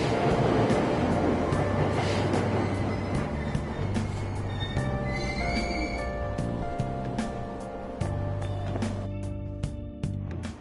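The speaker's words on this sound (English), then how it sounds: "Train doors are now closing. Please stand back." Train doors shut and a train pulls away in a PlayStation 4 video game, a steady loud rumble of rolling carriages with layered tonal hums and brief squeals, thinning out toward the end, with no talking.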